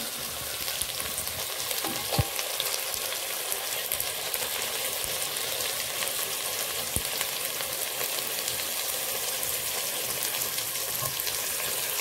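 Meal maker and peas sauté in coconut oil and ghee, giving a constant crackling sizzle up close, broken by a couple of sharp utensil knocks against the pan.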